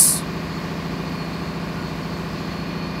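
The low-RPM Japanese-made Akasaka engine of the Parabat 12 river launch, over 4,400 horsepower, drones in a deep, smooth, steady hum that continues unbroken and fairly loud after a brief high hiss at the start.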